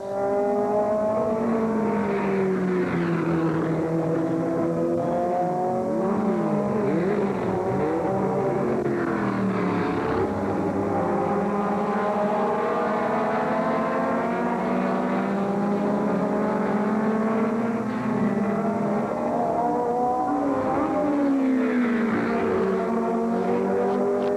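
Race cars roar past on a circuit, engine notes rising and falling as they sweep by in a continuous loud stream of several overlapping passes.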